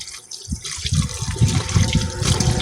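Chicken intestines are washed under a running kitchen tap, with a steady close splash and gurgle of water pouring over them as they are rinsed.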